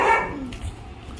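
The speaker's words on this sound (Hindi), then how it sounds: "तो अभी भी ये भौंक रहा है" A dog barks close by, one loud bark at the start followed by a softer whimpering tail, with no talk over it.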